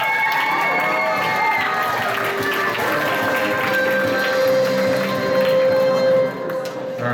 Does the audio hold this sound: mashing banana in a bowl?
no